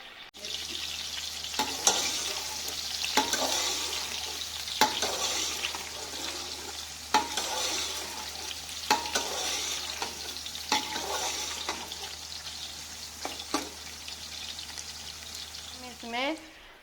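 Onions fry until golden in a pan of hot oil for chicken pulao, a steady close sizzle broken by repeated stirring scrapes, with no talking.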